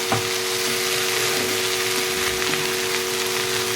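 Food frying in a pan, a steady close sizzle with faint crackles running continuously throughout, with no voices over it.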